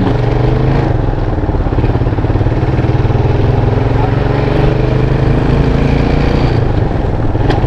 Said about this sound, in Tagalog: Tingnan mo yung mga motor, anak.